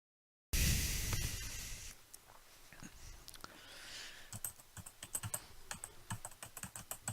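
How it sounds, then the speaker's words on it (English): Fingers tapping steadily on a computer keyboard in a quiet room in the game Steins;Gate 0, a close run of irregular clicks that starts abruptly after a brief silence and carries on with no talk. "The only sound in the room was of Daru's fingers on the keys."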